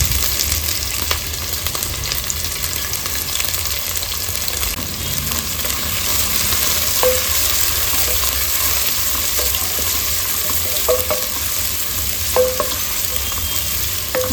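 Two sliced onions frying in hot oil for a spicy pork curry, a dense, continuous loud sizzle with occasional faint clicks of a utensil, close and steady throughout, no talking.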